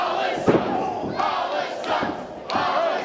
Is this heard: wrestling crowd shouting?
yes